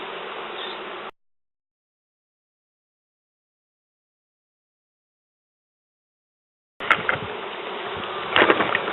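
Bees buzz close by around a honeycomb that has fallen inside a sofa. A dense, steady hum is cut off by a long stretch of silence, then returns louder and busier.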